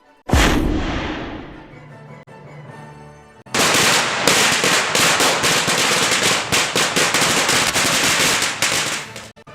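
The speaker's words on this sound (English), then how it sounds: "they heard the popping and cracking noises" A sharp burst of firecrackers, a brief lull, then a long rapid string of loud cracks and pops, close and continuous.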